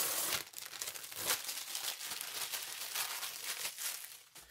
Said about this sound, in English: one wrapper and then a sticky wrapper helping hold the keys in shipment